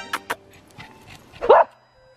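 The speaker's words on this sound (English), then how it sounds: "so Alaska just met a dog" A dog barks outdoors on a hilly walk in Sweden: two quick sharp yips, a few softer sounds, then a louder whining bark, fairly close against quiet surroundings.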